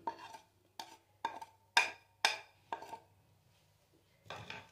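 A spoon clinks and scrapes against a bowl while chopped green coriander, salt and black pepper are mixed for a chicken cheese dish, six sharp taps in an uneven rhythm, then a brief pause and a final scrape.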